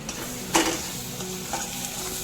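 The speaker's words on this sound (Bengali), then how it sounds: "টমেটোটা খুব ভালো মতো করে ভেজে নিচ্ছি" Tomatoes being fried and stirred in a pan for dal tadka, with a steady soft sizzle, a sharper scrape of the spoon near the start and light stirring clatter after, close up with no talking.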